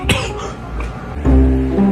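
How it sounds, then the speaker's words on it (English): A harsh cough up close, then a wet, rumbling throat sound that drags on, loud and congested. "Heavy coughing with phlegm"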